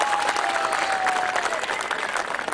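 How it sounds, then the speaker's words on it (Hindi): Loud, continuous audience applause fills the hall at a Dussehra celebration event, a dense wash of clapping that stays steady throughout. "जोरदार तालियां।"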